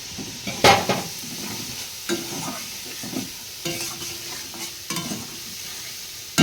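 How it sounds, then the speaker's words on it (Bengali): Ground ginger-cumin spice paste fries in a wok with a soft sizzle, punctuated by several sharp scraping and stirring strokes at irregular intervals. "এবার আমি বাটা মশলাটা দিয়ে দেবো, আদা জিরে সব মশলা বাটা।"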